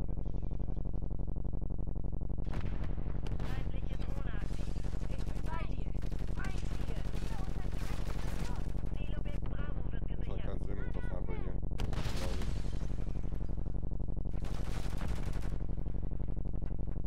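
A sniper rifle in the video game Call of Duty: Modern Warfare 3 fires in loud, sharp reports over a steady low rumble, with several shots and heavy battle noise spread through the stretch.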